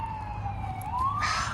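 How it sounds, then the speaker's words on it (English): An emergency vehicle siren wails, sweeping down and then rising again, sounding in the distance over low background rumble. "I apologize for the sirens."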